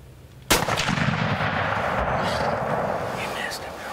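A single loud rifle shot fired at a deer while hunting outdoors, a sharp close crack that rolls into a long fading echo across the landscape.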